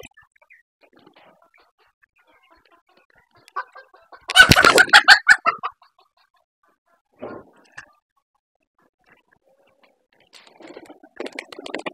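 Backyard chickens break into a loud burst of frantic clucking and squawking midway through as they are chased at feeding time, with a few scattered clucks before and after and quieter cackling toward the end.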